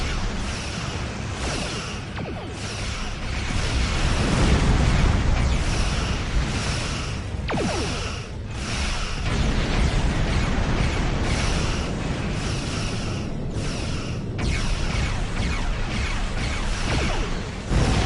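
Starship explosions in the video game Star Trek Online roar and rumble in repeated heavy bursts, with whooshing debris and crackling blasts layered into a dense, continuous battle din.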